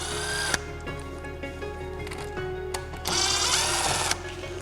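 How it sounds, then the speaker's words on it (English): Power screwdriver backing screws out of a cover on a Hylio agricultural drone, whirring in short bursts with a pause between, a longer, louder run near the end, close by and with no talk. "Pull the screws out."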